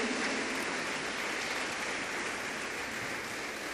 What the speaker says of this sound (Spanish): Dele palmas al Señor Todopoderoso.